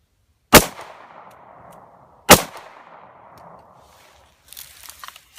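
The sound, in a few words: gunshot firing Winchester PDX-1 165 grain .40 S&W ammo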